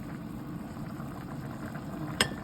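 Ground meat simmering in water with tomato paste, salt, pepper and garlic powder, a steady soft bubbling and sizzling close by, with one brief sharp clink near the end.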